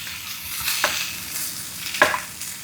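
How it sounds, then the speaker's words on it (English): Chicken for sweet chili chicken sizzles and crackles in a hot pan, with two sharp scraping stirs as a utensil moves it around, close and steady with no talk. "So we're going to add our chicken in. And we're going to stir that all around"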